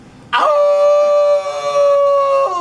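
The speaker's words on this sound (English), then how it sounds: "howling creatures." Howling creatures as a sound effect: one long sustained canine howl that swells in quickly, holds a steady wavering pitch for about two seconds, then bends downward, loud and close with no other sound.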